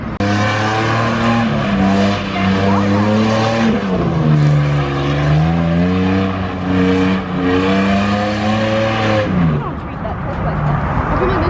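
Nissan 350Z with an extremely loud aftermarket exhaust revs repeatedly outdoors, climbing and falling in long roaring pulls with sharp crackling edges, then dropping off near the end; onlookers' voices are faintly present.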